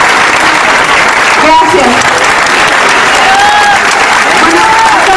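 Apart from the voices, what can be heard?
audience applause for the cultural coordinator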